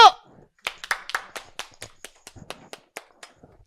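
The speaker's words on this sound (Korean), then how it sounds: "박수!" Scattered hand claps at a seminar, a dozen or so distinct, fairly close claps spread irregularly and thinning out, with no talk over them.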